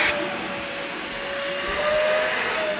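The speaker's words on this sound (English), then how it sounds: "we're going to pre-vacuum all the furniture in this hotel" Steady, loud vacuum cleaner whine fitted with a Backmaster hose, running continuously as it pre-vacuums upholstered furniture in a hotel lobby, with a high tonal hum over broadband airflow noise.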